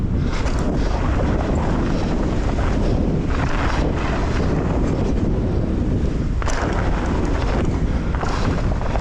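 Gusty wind roars steadily across the microphone of a rider on a downhill mountain bike park trail, loud and broadband throughout with brief surges, and no talking.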